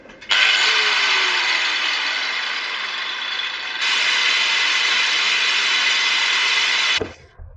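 An angle grinder runs on a FlashSpeed 1500 portable power station, giving a loud, steady high whine that starts abruptly and holds for about seven seconds. A brief dip partway through is followed by an immediate return to full pitch, and then it cuts off sharply.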